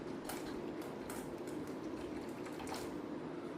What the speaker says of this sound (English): It's pouring in the coffee mug right now.